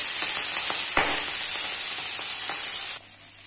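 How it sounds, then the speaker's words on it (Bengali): Crabs drop into hot oil and fry with a loud, hissing sizzle dotted with sharp crackles and pops, then the sizzle suddenly softens near the end. "এবার দিয়ে দেবো কাঁকড়াগুলো ভেজে নেবো"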